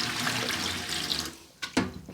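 Tap water running into a pot of basmati rice being rinsed, a steady splashing stream that cuts off near the end, followed by a couple of sharp knocks.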